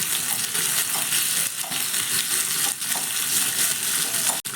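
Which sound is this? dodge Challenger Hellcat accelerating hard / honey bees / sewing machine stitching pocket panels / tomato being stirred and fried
tomato being stirred and fried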